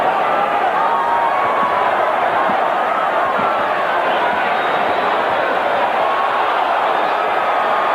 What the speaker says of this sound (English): The crowd right now apparently is more entertained by a fight going on out there in the bleachers someplace.